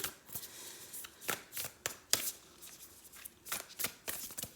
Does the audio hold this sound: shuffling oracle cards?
yes